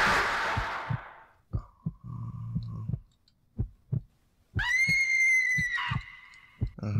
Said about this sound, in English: Just random screams.